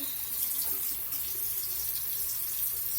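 Tap water runs steadily from a faucet over a makeup brush as it is wetted, a continuous close hiss of flowing water with no talking.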